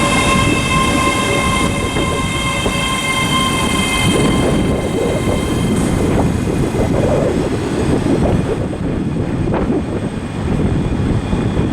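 A ScotRail class 385 electric train rumbles loudly through Glasgow Queen Street station, steady wheel and motor noise with tonal whines, heard alone.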